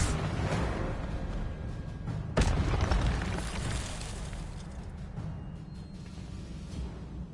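Fiery spell cast in Hogwarts Legacy, a loud whooshing burst with a sharp flare near the middle, then a sustained roar that slowly fades.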